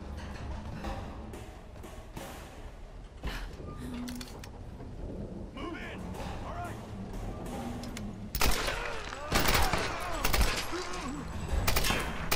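Bursts of rapid gunfire fill a Tomb Raider firefight, building to dense, loud volleys toward the end, with someone talking over the shooting.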